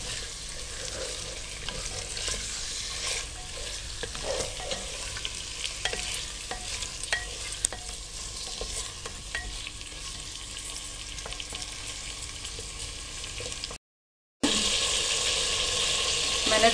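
Mutton pieces fry lightly in a pan for a namkeen handi gosht, giving a steady close sizzle with frequent stirring scrapes, a short silent break near the end, then a louder sizzle.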